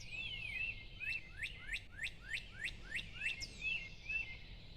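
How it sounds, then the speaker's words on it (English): A bird calls in a quick series of about ten sharp, rising chirps, fairly distant and soft against a quiet background. "You hear that bird?"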